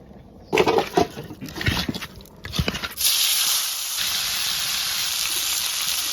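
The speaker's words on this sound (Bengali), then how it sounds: "মুখে মাছটা ভাজা হয়ে গেছে" Snakehead fish fries in oil, first with brief spattery crackles and clatter, then a steady loud hiss of frying that settles into a continuous sizzle close by.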